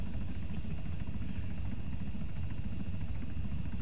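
Helicopter rotor noise from the video game Arma 3, a dense, steady low rumble and whir holding evenly throughout with no voices.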